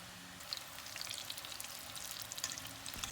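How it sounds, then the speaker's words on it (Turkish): Steady crackling sizzle of eggplant slices frying in hot oil in a pan, with small pops scattered throughout; fairly quiet and close, no voices. "patlıcanları kızartmaya devam ediyorum"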